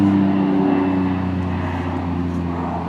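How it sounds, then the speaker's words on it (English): A low-flying propeller airplane passes overhead with a steady, loud droning engine roar and a strong low hum, continuous throughout, heard outdoors. "can you hear the plane?"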